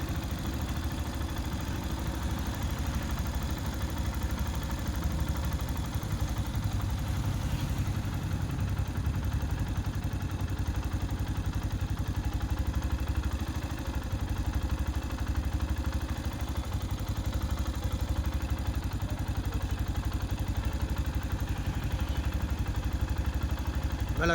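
A vehicle engine idles steadily at about 1450–1500 rpm, a continuous close, low rumble with a faint mechanical clatter, holding an even level with no talk.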